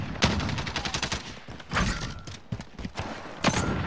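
Light machine gun fire in Call of Duty: Modern Warfare, rapid bursts of sharp, close gunshots in quick succession, broken by a few heavier thumps and louder single cracks.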